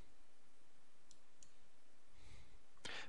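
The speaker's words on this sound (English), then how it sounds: "Then click OK." Faint computer mouse clicks in a quiet room, a few isolated sharp clicks with a slightly louder one at the very end.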